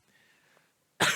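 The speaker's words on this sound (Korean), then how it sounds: "계속 기침을 하고 있어서" A single sharp, loud cough bursts out at the end after a stretch of near silence.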